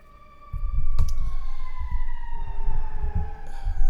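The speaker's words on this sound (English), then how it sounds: "hold for siren." An emergency vehicle siren wails outside, steady rising and falling tones carrying across several seconds over a low rumbling background, with a sharp knock partway through and no talking.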